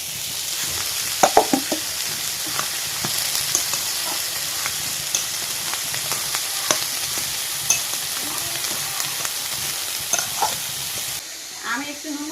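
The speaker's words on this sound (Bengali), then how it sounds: "এবার আলুগুলো দিয়ে দেবো" Potatoes frying with onions and chillies in a pan, a steady close sizzle broken by scraping stirs and clicks of a spatula, with no talk.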